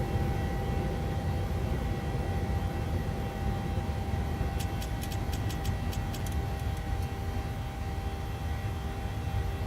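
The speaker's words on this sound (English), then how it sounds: "And I am manually flying the airplane" Airliner engine roar in a flight simulator game during a manually flown climb after takeoff, a steady dense drone throughout, with a brief burst of light ticking clicks midway.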